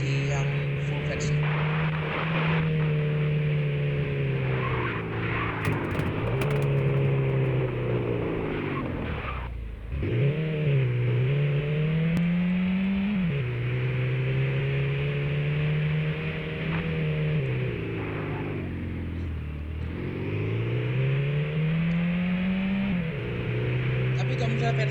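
A car engine in a horror video game drones continuously, its pitch rising and falling as it revs, with a sharp dip and recovery midway.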